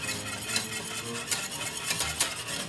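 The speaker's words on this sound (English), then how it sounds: "Use a whisk" A whisk stirs cinnamon, grated nutmeg and mixed spice into a Jamaican green banana and green plantain porridge, giving quiet, irregular scraping strokes against the pot with a few sharper clinks.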